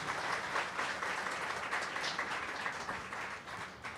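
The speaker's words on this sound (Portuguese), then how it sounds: "primeira rodada de palmas agora para a Nana Palvoli." An audience applauds a visiting writer at a literary café event, steady clapping filling the room for about four seconds without talk.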